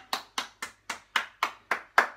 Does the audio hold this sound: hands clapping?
yes